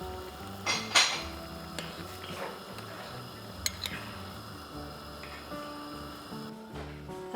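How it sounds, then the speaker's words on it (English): Doenjang stew is stirred in a pot in a home kitchen: quiet scraping and clinks of a utensil against the pot, with a couple of sharper metallic knocks, over a steady low background hum. "Give it a little stir, and then boil it on high"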